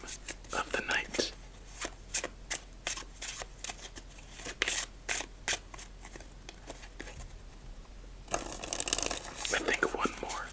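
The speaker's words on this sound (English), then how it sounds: "as we shuffle up this deck" Sparrow Hanafuda card deck being shuffled, a long run of crisp riffle and slap bursts at a steady rhythm, close and intimate, with a soft whispering voice between them.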